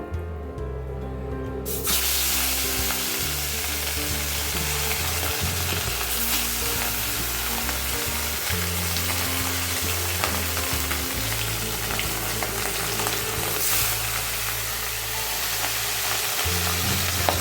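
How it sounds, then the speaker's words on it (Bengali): Rui fish pieces fry in hot mustard oil in a kadai, giving a loud, steady, continuous sizzle that holds unbroken from the moment the fish goes in, with no voices over it. "এই যে সর্ষে তেল দিয়ে দিয়েছি অলরেডি তেল গরম হয়ে গেছে এবার একে একে মাছগুলোকে আগে ভেজে নেব"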